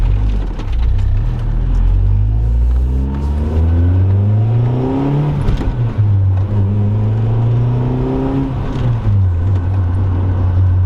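A BMW E30 with bad power steering is driven, its engine revving up and easing off in repeated rising and falling sweeps, loud and close from inside the car.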